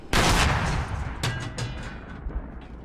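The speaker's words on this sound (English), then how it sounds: "Is that artillery?" Artillery fire in the video game ArmA 3: a heavy booming report opens, followed by a second sharp blast about a second later and smaller rumbling echoes fading out, with no talking.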